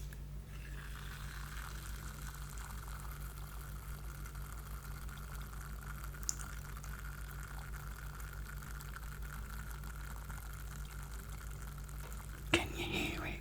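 An opened can of Diet Coke fizzes softly and steadily, held close, a faint continuous crackle of bubbles under a low hum, with a brief clunk near the end.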